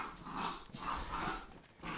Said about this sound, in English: what kind of fucking psycho dogs are you raising there?